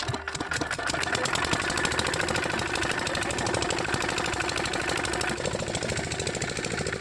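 A diesel engine runs close by with a rapid, even mechanical clatter that starts up at the opening and then holds steady, while brief voices come in faintly underneath.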